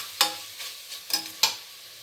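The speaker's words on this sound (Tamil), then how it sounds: "இதையும் சேர்த்து நல்லா கொஞ்சம் நேரம் வதக்கணும்" Curry leaves and mixed greens sautéed in a pan for mixed vegetable rice, a quiet low sizzle punctuated by three or four sharp scraping stirs of a spoon against the pan.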